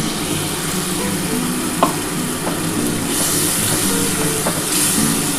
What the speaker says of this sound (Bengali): এবার আমি যে মশলার জলটা আছে এই মশলার জলটা এবার ঢেলে দেবো